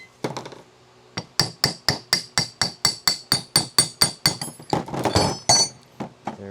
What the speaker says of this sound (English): And hammer away